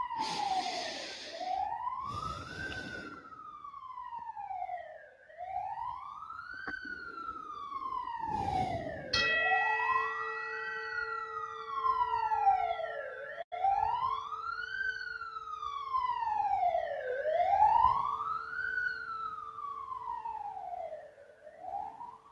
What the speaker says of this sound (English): Definitely siren convention day.